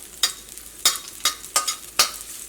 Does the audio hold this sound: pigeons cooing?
no